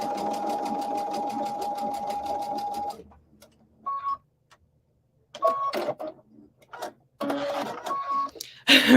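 A sewing machine stitches a scrappy leaf quilt block in a steady rapid run for about three seconds, then stops; after a pause come short bursts of stitching mixed with speech.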